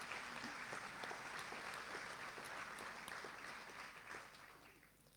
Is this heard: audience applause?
yes